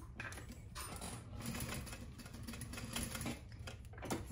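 A sewing machine basts the flap of a crossbody bag in place, its steady mechanical stitching whirring close by in a continuous run with faint clicks, no voices over it.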